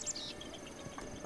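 Crickets chirp in the game Zelda: Breath of the Wild, a faint steady insect trill with a few higher bird-like chirps over a low ambient background.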